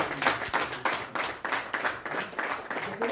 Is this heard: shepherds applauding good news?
yes